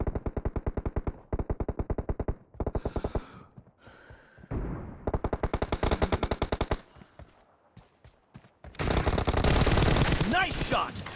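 Rapid automatic gunfire from a team deathmatch video game, loud repeated bursts of machine-gun shots broken by short pauses, ending in a dense sustained volley.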